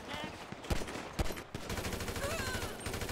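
Gunfire in the online game GTA Online: a few sharp shots and short bursts cut through a busy in-game background over three seconds, fairly quiet overall, with no voices over them.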